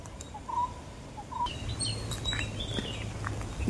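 Birds call in a dense rocky forest, a couple of clear whistled notes early and then scattered chirps and twitters at moderate distance over a soft, constant outdoor hiss.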